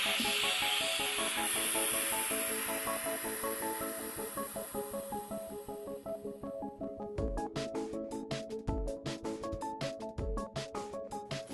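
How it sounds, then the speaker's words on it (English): A steady broad hiss of air rushing back into a vacuum chamber slowly fades over several seconds, followed by a series of sharp rhythmic clicks and knocks. "So now we're going to let the air back in the vacuum chamber."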